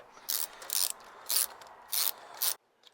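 A hand ratchet snugs down a bolt on a lid on an FJ40 cooling-system job, giving five short, bright clicking bursts in a quick, uneven rhythm, close up and then silent.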